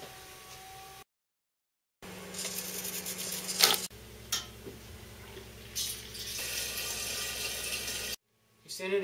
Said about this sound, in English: The brewing vessel fills itself with fresh water via this solenoid